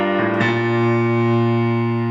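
Lower-register piano part, a few notes struck in quick succession at the start and then left ringing as a sustained chord that fills the rest, close and alone with no talk.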